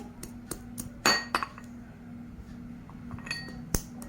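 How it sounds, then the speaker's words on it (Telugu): Garlic cloves pounded in a small stone mortar: a few separate sharp clinks and knocks, fairly near, spaced irregularly over a quiet background with a steady low hum. "వాటిని అయితే దంచుకుంటున్నా ఈ చిన్న రోటీలో వేసి"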